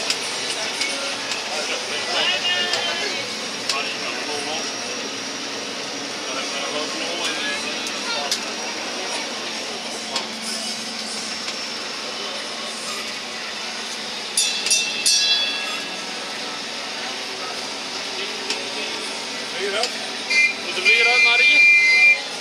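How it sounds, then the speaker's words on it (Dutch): Small tourist road train running through a water park on Rhodes, a steady mechanical rumble and rattle throughout with occasional beeps and clicks, as people talk on board over it. "Zitten nou even in het treintje."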